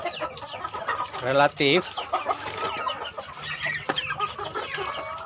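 Chickens cluck and squawk close by, with a couple of louder bursts early on, while a person talks over the flock.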